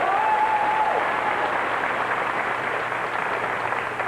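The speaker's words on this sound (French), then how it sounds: "mérite des applaudissements, ça, je pense." Audience applause honouring a 37-year career, a steady dense wash of clapping that holds at full strength throughout, with a brief cheer early on and no clear speech.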